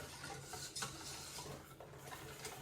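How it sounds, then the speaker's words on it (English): A spoon scrapes and stirs homemade playdough mixture in a bowl, a faint, continuous gritty swishing with a few light clinks against the sides. "And then I'm going to stir it."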